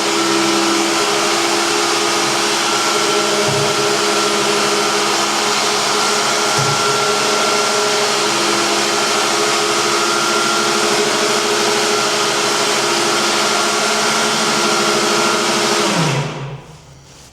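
A remote-controlled lift for raising a mower deck in a shop runs with a loud, steady electric motor drone that holds constant for about sixteen seconds, then winds down and stops.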